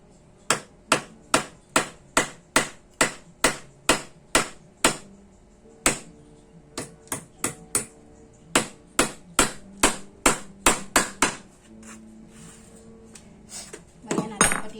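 Nails are hammered into wood while a study table is built: a run of sharp, evenly spaced blows, about two per second, pauses briefly, then resumes in another quick series, close and loud.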